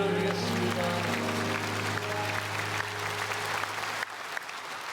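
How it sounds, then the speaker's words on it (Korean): A congregation at Sunday worship in Myungsung Church gives sustained, dense applause as lingering sustained musical tones fade beneath it. The clapping thins slightly after about four seconds. "우리 주님께 영광의 박수 올려드리겠습니다"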